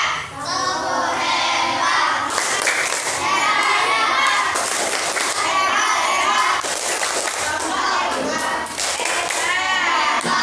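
A class of fifth-grade children applauds a group with a rhythmic cheer-clap. Lively young voices overlap the steady claps throughout.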